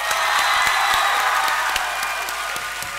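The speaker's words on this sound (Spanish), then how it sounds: "antes del silencio un fuerte aplauso para Cheto, para Mangel y para Rubius." Steady applause from a studio audience, with cheering and scattered whoops under it, greeting the guests on a Spanish talk show. The clapping is loud and dense throughout.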